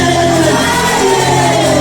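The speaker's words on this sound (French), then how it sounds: "Lève ta voix, crie fire." A church congregation at a French-language worship service shouting together, a loud continuous wash of massed voices and cries with no breaks.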